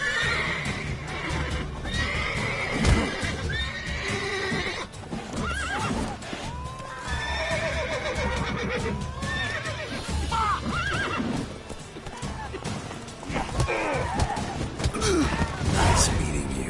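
Horse neighs and whinnies in the video game Witcher 3, loud repeated calls over hoof clip-clop and game sounds, with a voice talking at times.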